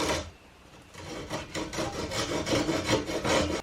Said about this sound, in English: I'm going to be using one of my favorite saws here, the Japanese pool saw